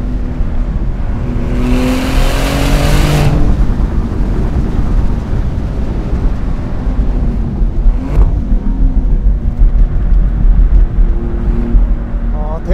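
A Maserati GranCabrio Trofeo is driven fast on a winding road, its engine a loud, steady roar throughout with a rising rev sweep early on and sustained tire and wind noise.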